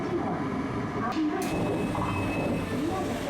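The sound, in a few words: Osaka Metro Imazatosuji Line subway train arriving at terminus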